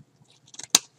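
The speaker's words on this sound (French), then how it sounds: "Je vais couper avec des ciseaux." Scissors snip through a small strip of cotton wick, a single sharp close cut preceded by faint rustling handling sounds, quiet and brief.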